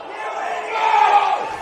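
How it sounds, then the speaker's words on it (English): A crowd at a senior men's grand final of Australian rules football roars in a sustained, swelling cheer, loud and continuous, with commentary faintly underneath. "And you can hear the passion from the crowd"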